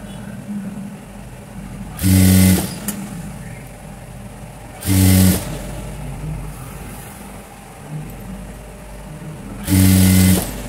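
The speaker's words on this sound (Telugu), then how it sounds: "ఆ పొడుగుని అనేది ఇక్కడ స్టిచ్ చేసుకోవాలి" A sewing machine stitches a folded two-inch hem in three loud, separate bursts of rapid running, each about half a second long, with quiet pauses between them.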